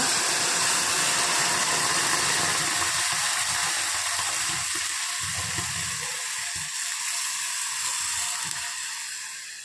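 Water pours steadily into a metal pot, a loud continuous splashing rush that softens slightly as the vessel fills.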